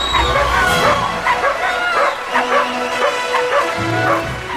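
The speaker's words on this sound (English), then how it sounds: "the winner of the 2010 Pet Costume Contest Large Dog category is... Mugsy!" Dogs bark, yip and whimper at a Halloween pet costume contest among a crowd, with repeated close barks over steady crowd background and some voices.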